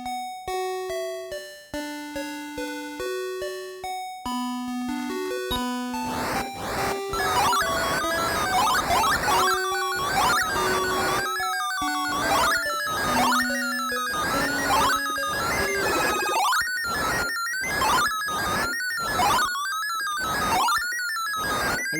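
Busy sound effects from the Phoenix arcade shooter during play: a chirpy descending tonal melody gives way to rapid laser zaps, warbling sweeps and bursts layered into a loud, dense electronic racket with no talking.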